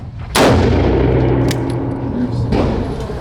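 A gun fired by a blind shooter goes off in two sharp, loud reports about two seconds apart, each with a ringing metallic tail and a lingering echo.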